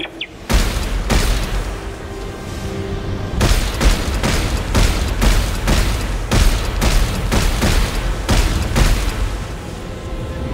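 Rapid bursts of gunfire in Dead Space 3 hammer at a reactor's heat sinks, loud, close, repeated booming shots in an uneven rhythm over a steady rumbling drone, with no voices.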